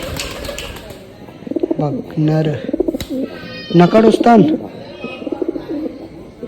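A pet pigeon coos in short repeated phrases at close range, mixed in with people talking over it and some household background noise.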